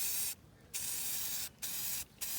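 Spray paint bursts from an aerosol can onto picture frames in a workshop: three close, loud hissing blasts with short gaps between them, and no talk.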